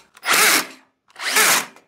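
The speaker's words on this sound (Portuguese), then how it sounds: "Controle de torque na parafusadeira, então faz esse barulho." A cordless screwdriver with torque control, driving screws while installing a TCL T-PRO 2.0 split air conditioner, gives two loud close bursts of whirring and ratcheting clutch noise with a short gap between.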